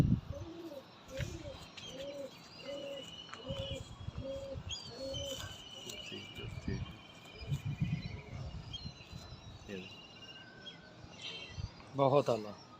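Domestic breeder pigeons coo in repeated soft, rhythmic calls, close and fairly quiet, with chirps and birdsong around and people talking at intervals.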